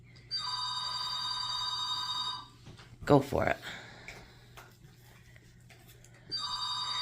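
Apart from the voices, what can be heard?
landline telephone ringing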